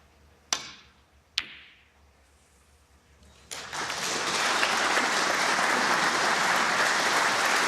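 Two sharp clicks of snooker balls striking, then the crowd at a British Open snooker quarter-final breaks into sustained applause that swells and holds loudly to the end.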